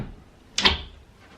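One short sliding scrape and thump as a drawer is pulled out, close by in a quiet room, with silence before and after.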